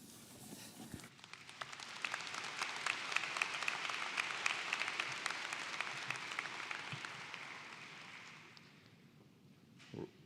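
A university convocation audience bursts into sustained applause, a dense wash of many hands clapping that rises quickly, holds for several seconds, then fades out, heard from a distance in a large hall.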